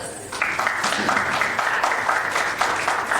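An audience at a corporate rewards and recognition evening gives a round of applause, a steady crowd of hands clapping with rhythmic pulses over faint background music.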